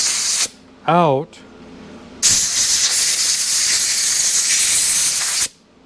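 Aerosol cleaner sprayed onto a sandblasted Yamaha AT-2 motorcycle part to strip old Loctite, a short spray burst and then a long, loud, steady close hiss, with a brief spoken word before it.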